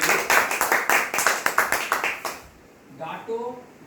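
An audience at a DXN company gathering claps for the company founder, a quick run of distinct rhythmic claps for over two seconds, then someone speaks briefly.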